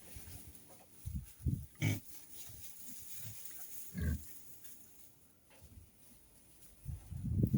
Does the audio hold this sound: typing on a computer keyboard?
no